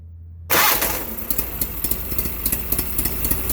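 An Onan P216G engine on a Case Ingersoll 4016 garden tractor with a Nikki 6100 carburetor fires up after silence with a sharp catch, then settles into a steady, close, throbbing idle.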